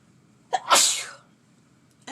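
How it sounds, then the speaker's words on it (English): One loud, close human sneeze: a short intake followed by a sharp burst that fades over about half a second, then quiet. "I gotta sneeze"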